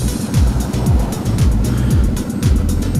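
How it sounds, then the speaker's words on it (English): Road traffic in Charleston in a jam, heard from a motorcycle: a loud, close rumble of engines idling and revving in repeated surges, with no talking. "And this traffic jam does not help."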